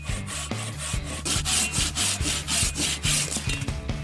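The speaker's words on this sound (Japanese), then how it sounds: "全くノコギリが切れなくなっております。" Handsaw with a dulled blade, blunted from cutting deer antler, sawing dense hardwood as firewood at a mountain camp, in steady rhythmic back-and-forth strokes, close and fairly loud, with no talking.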